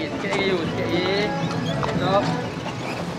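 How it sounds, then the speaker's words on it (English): A horse's hooves clip-clop at a steady walking pace nearby on a street in Malacca, Malaysia, with people talking over them throughout. "And this is a horse."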